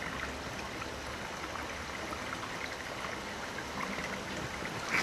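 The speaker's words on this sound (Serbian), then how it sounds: "Natočim vodice iz Vorske." Spring water pours from the Vorska spring outdoors, heard as a faint, steady trickling rush with no voices.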